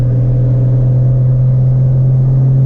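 A Mazda Miata on a canyon run, held in a high gear, gives a loud, steady, droning engine hum with a strong low tone and no clear rise in revs through the short stretch.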